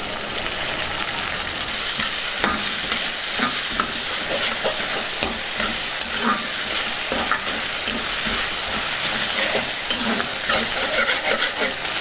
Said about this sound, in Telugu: ఇప్పుడు బఠానీలు వేసేసుకుందాం